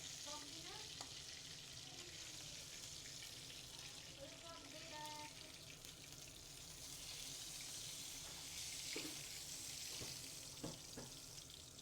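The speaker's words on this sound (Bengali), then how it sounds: "এখানে আমি কাতলা মাছটা ভেজে দিচ্ছি, একদম কড়া করে ভাজতে হবে।" Katla fish frying hard in hot oil in a pan, a steady close crackling sizzle lasting throughout, with occasional clinks and a faint water-like hiss mixed in.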